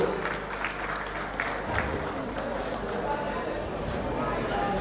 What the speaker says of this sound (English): A round of applause for St. Nicholas Hospital.